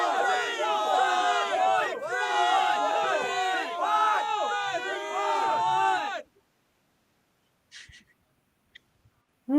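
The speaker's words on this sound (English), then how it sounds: "after the crowd noise." A loud, dense crowd of many voices shouts and whoops continuously for about six seconds as a game-show sound effect, then cuts off abruptly into near silence with a few faint brief noises.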